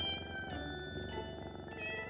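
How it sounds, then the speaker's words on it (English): A cartoon cat meows softly in the video game Pocket Mirror, in a scene with cats among sunflowers. The faint, thin meows sit over a quiet game soundtrack with no talking. "Oh, cats!"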